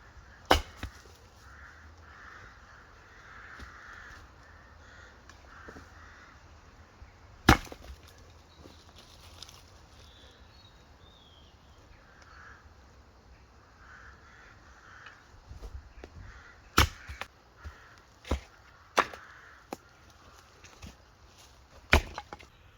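Wood being chopped at a winter campsite during solo camping: a handful of sharp, close cracking chops land at irregular intervals over a quiet, faintly hissing outdoor background, with no voices.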